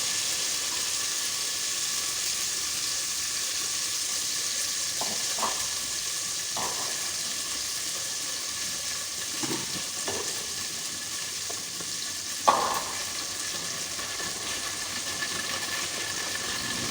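Okra frying with cumin in a hot pan gives a steady, close sizzle throughout, with a few brief clinks and stirring scrapes of a utensil against the pan.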